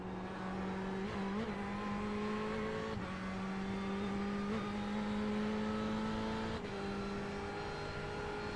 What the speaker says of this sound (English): the GTE Ferrari does sound pretty sort of bland, really